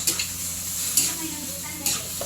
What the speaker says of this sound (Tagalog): Kuha lang, gisado lang sa lamas ang nukos.